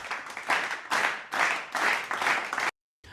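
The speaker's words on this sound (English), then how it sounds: "How about a round of applause for standing ovation?" Studio audience applause during a reality TV recap show, coming in dense bursts of clapping that swell and dip several times before cutting off abruptly near the end.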